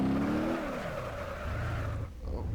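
Tires skid and squeal as a car slides in the driving simulation game BeamNG.drive, a loud sustained screech under engine drone that fades into rumble.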